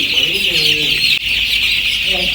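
Chicks cheep and cluck continuously inside a poultry shed as they are caught and gathered into a basket, a dense close chorus with a steady bright high chirping throughout.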